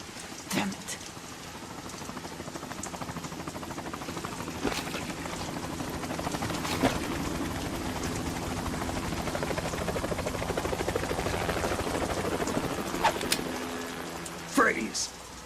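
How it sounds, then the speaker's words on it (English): A helicopter in the video game Metal Gear Solid 2: Sons of Liberty throbs steadily throughout with a rain-like hiss, while characters speak over it and a few sharp effects cut in. "You will be on the helicopter out of here now"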